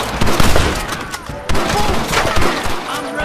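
Red Dead Redemption shootout: loud, close rifle and pistol fire crackles in rapid overlapping bursts, with a heavy volley breaking out midway and continuing dense and chaotic to the end.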